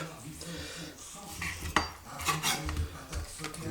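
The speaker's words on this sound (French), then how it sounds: "On va découper ça, on les dégraisse si besoin, et on les découpe" A knife cuts and scrapes through chicken fillets against a board and dish, giving irregular close clinks, taps and rasping strokes with no talking.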